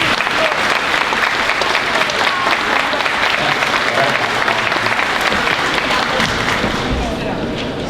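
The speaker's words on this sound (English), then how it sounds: "If you were in the band, stand up and give you a round of applause." Sustained audience applause for band students at a junior high school year-end awards ceremony, a dense, steady wall of clapping from a large crowd filling the hall throughout.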